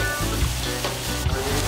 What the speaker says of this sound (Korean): 왜 대창을 지글지글 굽고 계신 걸까요?